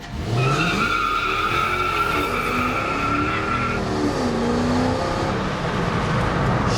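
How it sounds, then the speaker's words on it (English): A bakkie with hard, thin tyres launches with wheelspin, loud close tyre squeal and a revving engine rising and wavering as grip is lost. "I tried to do a launch, but there's no grip."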